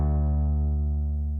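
A sustained, buzzy bass tone from a distortion effect holds steady with a thick, harmonically rich distorted character, ringing alone without any other sound.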